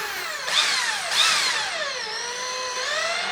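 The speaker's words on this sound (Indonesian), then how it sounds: "ini hole saw untuk media besi" A DongCheng DJZ10-10 electric drill fitted with a 20 mm hole saw bores through iron, giving a loud, close, continuous whine that rises and dips in pitch as the cutter bites, with no talk.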